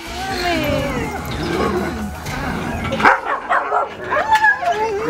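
Dogs bark and yip at a divided dog park. Loud voices talk over the first half, then a series of sharp barks follows in the second half.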